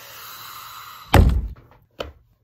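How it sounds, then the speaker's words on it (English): A chair is kicked, giving a loud hollow thunk followed a moment later by a second, softer knock, both close by in a quiet room. "Did you just kick my chair?"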